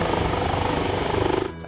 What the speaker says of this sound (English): All day we've been seeing these helicopters going by in and out